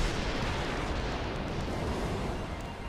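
Moon Cannon firing attack in the video game Final Fantasy X, a dense, sustained roar of broadband blast noise with rumbling low end, loud and continuous for the whole stretch with no talking.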